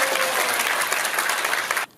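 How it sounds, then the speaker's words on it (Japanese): Audience applause welcoming a guest onstage at a documentary film talk event, a dense wash of clapping from a crowd, loud and sustained before cutting off abruptly. "皆様拍手でもってお迎えください"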